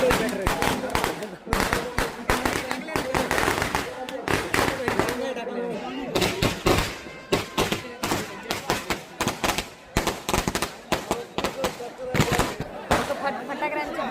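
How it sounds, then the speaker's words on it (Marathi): Firecrackers burst in dense, rapid volleys at a crowded village festival (Hudo Utsav in Kunkeri), loud sharp cracks tumbling over one another with crowd noise and voices underneath. "फटाके वाजवतात."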